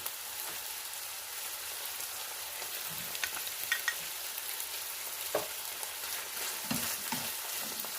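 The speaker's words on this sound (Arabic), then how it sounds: "غادي ندير مقيله، غندير فيها شويه الزبده حتى هي اللي خديتها من هاد المقله هادي، وغادي نقلي فيها لي شامبينيون ديالي" Mushrooms fry in butter in a pan, giving a steady bright sizzle throughout with a few soft clicks and stirring knocks scattered over the crackle, close and alone without voices.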